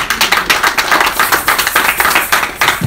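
A church congregation claps in steady rhythmic unison, loud and close, with sharp regular hand claps filling the whole stretch and no voices over them.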